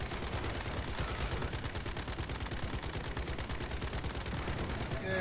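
Sustained rapid gunfire from a boss fight in the video game Once Human, a dense, continuous barrage of closely spaced shots that stays loud and steady throughout.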